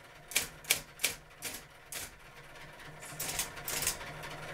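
Keys clacking on a Hermes Model 505 electric typewriter, a run of sharp close strikes at first spaced, then quicker and denser toward the end, with no voices.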